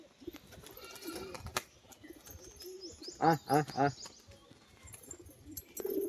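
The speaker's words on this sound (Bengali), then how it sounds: "এই যে দেখুন দুটো পায়রা" A pair of pigeons, one steel-coloured and one white, offered for sale, give three quick throaty coos in a row, close by, with talk around them.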